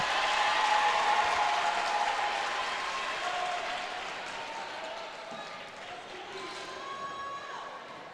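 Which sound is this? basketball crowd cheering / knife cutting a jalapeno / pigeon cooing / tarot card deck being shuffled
basketball crowd cheering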